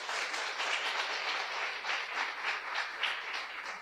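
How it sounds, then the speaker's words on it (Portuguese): Applause from a church congregation fills the room, steady and dense clapping that stays at a fairly even level throughout, slightly distant and without talk over it. "Uma salva de palmas para isso aí."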